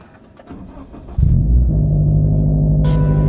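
A sports car starts up: a few quiet clicks, then the engine catches with a sudden loud burst and settles into a strong, steady low idle, lifting in a short rev near the end.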